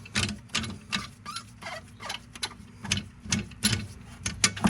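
Coilover locking collar on a Mercedes being tightened by hand, producing a close series of rapid clicking, scraping metal-on-metal ratchety sounds in irregular bursts.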